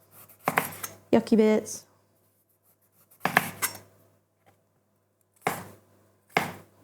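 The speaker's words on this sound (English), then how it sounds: "Just chop the end off" A knife chops the end off a vegetable on a cutting board in a few sharp, close cuts separated by pauses, with a voice speaking briefly between the chops.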